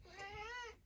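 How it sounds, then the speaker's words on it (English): A house cat gives one drawn-out, tonal meow, soft and slightly distant, rising and falling over quiet room tone with no talk. "if you can hear him meowing in the background"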